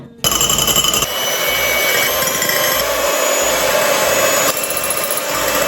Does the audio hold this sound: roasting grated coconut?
no